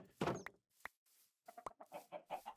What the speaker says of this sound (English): We've got chickens now, which means we've got eggs